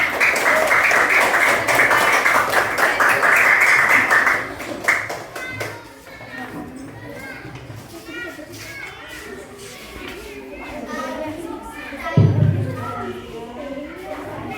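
A classroom audience at a teacher-training session claps for presenting group 1, a dense burst of hand-clapping for about four seconds that fades into quieter shuffling and people talking.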